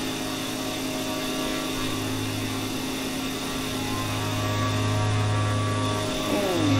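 A simulated airplane engine in Microsoft Flight Simulator drones through a loop at an airshow over Cedar Point amusement park, its steady buzzing hum rising slightly in pitch and loudness toward the end.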